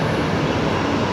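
Qantas 15, an Airbus A330, at Brisbane Airport, heard as a steady, dense engine roar throughout a brief moment with no talk over it.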